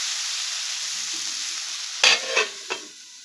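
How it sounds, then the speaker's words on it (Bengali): Ridge gourd and leftover vegetables fry in a pan for a chachchari, with a steady sizzle followed by three quick scraping stirs near the end. The stirs are close and fairly loud, and no one talks. "ব্যাস এবার একটু নাড়াচাড়া করে দিলাম একটু ঢাকা দিয়ে দেবো"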